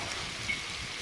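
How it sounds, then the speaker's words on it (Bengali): Onion and garlic frying in a pan for a Bengali curry of katla fish head with taro, a soft steady sizzle throughout, fairly faint, with a sharper crackle at the very end. "রসুন ভেজে নিচ্ছি।"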